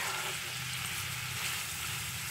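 Dried red chilies sizzle in hot oil in a pan, with a steady, dense crackling hiss that holds evenly throughout and no voices.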